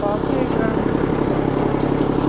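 A tractor engine runs with a loud, steady mechanical drone on a muddy farm track, close and continuous throughout, with a voice heard over it.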